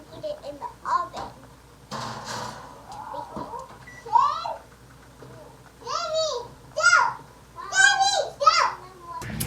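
Young girls play and chatter at home, their high, lively voices rising in short bursts with squeals and babble, fairly close and filling the room during cooking.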